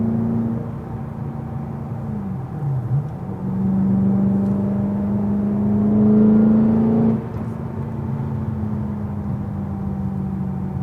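A car with a BMW S65 V8 engine drives along on Ohlins Road & Track coilovers, a steady low engine drone with a rising rev swell in the middle before settling back; no talk.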